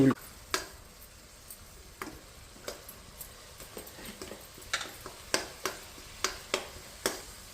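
Green chillies frying in hot oil in a home kitchen: a soft continuous sizzle broken by sharp pops and crackles that come every half second or so, growing more frequent toward the end, close by, with no talking.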